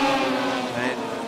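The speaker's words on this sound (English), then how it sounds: "Watch these machines fly away with their Hayabusa engines." Race cars powered by Hayabusa engines roar away from a standing start in a Winton circuit race, a loud, dense layered engine howl under a commentator's voice.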